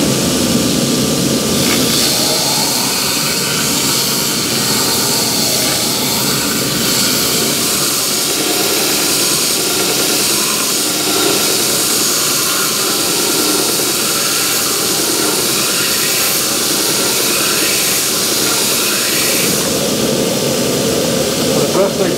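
A belt grinder grinds the flat side of a knife blade held in a grinding jig, giving a loud, continuous, steady roar throughout.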